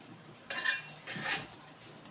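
Sabudana khichdi is stirred in a pan, giving two or three short scraping, rustling strokes of a spoon against metal, close and fairly soft.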